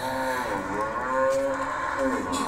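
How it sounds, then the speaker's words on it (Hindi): Cow on a home goat farm lowing in one long, steady, tonal moo that rises and falls, close and clear over faint background, with no talking. "गाय की सुरीली आवाज, गाय की मधुर आवाज, कोमल आवाज गाय की"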